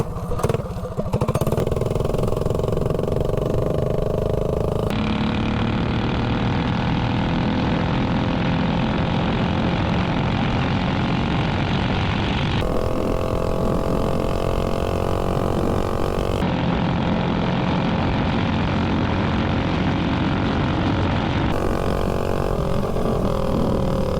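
A mini bike engine fitted with a 26 mm carburetor screams through a top speed run, holding a loud, continuous high-revving drone with a buzzing harmonic whine that shifts slightly as it passes and recedes.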